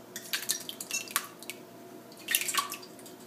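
Thick yogurt pours and drips into a cheesecloth-lined pasta colander, giving soft wet splats and drips in a few bursts at close range, with no talking.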